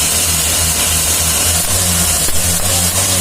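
A Mitsubishi L300 diesel engine running steadily, a loud low throbbing rumble that holds an even idle throughout, with a brief rise near the end and no voices.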